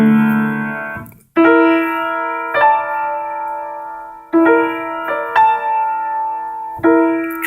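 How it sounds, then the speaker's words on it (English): Gospel 13 chords on the dominant seventh played on a keyboard, a sequence of several sustained stacked chords struck one after another and each left to ring, close and clear with no talking. "Another thing I like to do is playing 13 chords on the dominant seventh."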